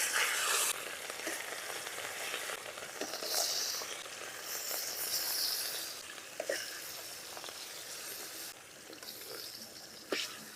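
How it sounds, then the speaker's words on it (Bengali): Pieces of katla fish frying in hot oil in a kadai, a soft continuous sizzle and hiss with occasional sharper pops and utensil knocks, fairly quiet and without talk. "তেল গরম হয়ে গেছে, এখন মাছগুলোকে একে একে দিয়ে দিব।"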